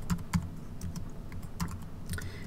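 Rapid, light key clicks from numbers being entered on the keypad of a TI-84 graphing calculator, in irregular bursts of a few presses with short pauses, close and fairly quiet, with no talking.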